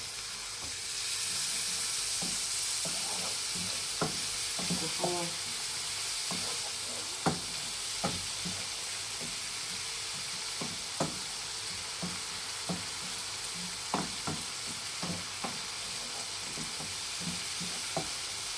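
Tomato sauce sizzles and fries in a hot pan after turmeric, coriander and seasoning cubes went in, a steady close hiss punctuated by scattered spoon clicks and stirring knocks throughout.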